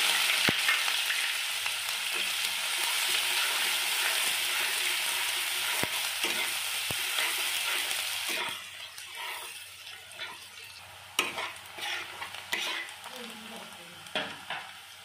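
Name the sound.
chopped onions frying and being stirred in a pan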